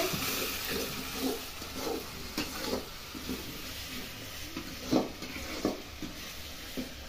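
Masala spices frying in oil in a pan for a Bengali rohu fish curry, with a low steady sizzle broken by repeated soft scraping stirs at an uneven rhythm, close and moderately quiet.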